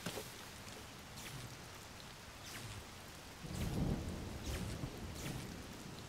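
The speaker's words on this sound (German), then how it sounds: "Der Blitz schlägt gleich ein. Oder das Gewitter verzieht sich jetzt." Steady rain hisses in a thunderstorm in the video game The Legend of Zelda: Tears of the Kingdom, and a deep roll of thunder swells midway through the downpour.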